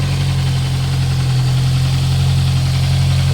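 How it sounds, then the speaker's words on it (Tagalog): A Toyota Altis engine with an oil warning light idles loudly, a steady, close, low rumble with a constant mechanical hum and no talk. "kung mapapansin mo, sobrang ingay ng makina mga bossing"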